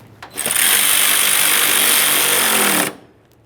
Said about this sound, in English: Go ahead and tighten that bolt.